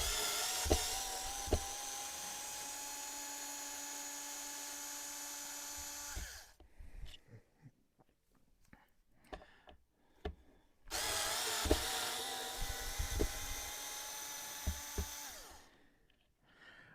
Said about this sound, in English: Bust out this screwdriver.